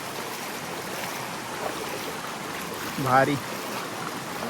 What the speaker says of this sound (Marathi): धबधबा असल्यासारख्या वाटतं पुढे. थोडासा उंचावरून पाणी खाली.